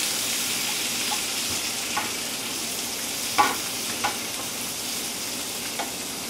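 Brussels sprouts and green beans fry in butter in a pan, a continuous bright sizzle with a few soft clicks of stirring scattered through.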